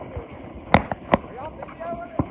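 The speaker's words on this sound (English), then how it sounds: "this is the Mississippi Missile, another TNT," A Mississippi Missile TNT 25-shot firework cake: a few sharp pops and cracks over a low background rumble, with whistling streaks between the bursts.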